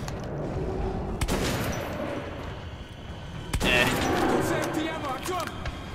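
Shotgun blasts in Metro 2033 Redux, two sharp loud reports a couple of seconds apart over a constant rumbling game ambience, with faint trailing echoes.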